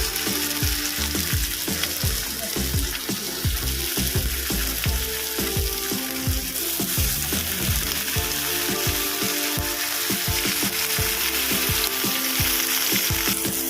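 Banana-leaf wrapped duck egg paturi frying in hot oil in a kadai, a loud, close, continuous sizzle with frequent low knocks and clatter throughout.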